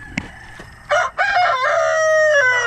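A rooster inside a farm chicken barn crows loud and close, a single drawn-out call that rises and then trails off, preceded by a brief click.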